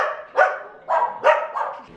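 A dog barks while eating, giving four short, close, loud barks in quick succession over about two seconds.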